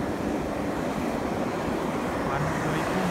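A boiling hot spring pool in Beppu, Japan, around 98 degrees, gives a steady, dense rushing hiss and bubbling roar close by, continuous for the whole stretch with no voices.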